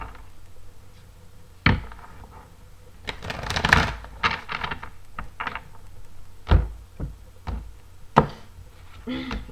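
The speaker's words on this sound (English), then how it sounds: "One more shuffle, please." Tarot cards shuffled by hand in bursts of riffling and sharp slaps and taps, close and fairly quiet, with an irregular rhythm and short pauses between flurries.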